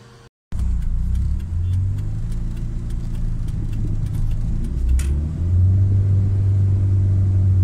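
Mitsubishi Lancer GSR engine starts after a brief pause, then settles into a loud, close idle rumble with a slight rise in revs near the end, with no talk.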